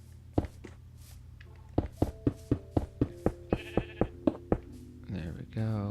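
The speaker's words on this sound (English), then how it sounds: "Yes, sheep, I hear you, I hear you." In the video game Minecraft, about a dozen evenly spaced knocking thumps, then a sheep bleats close by a couple of times at the end.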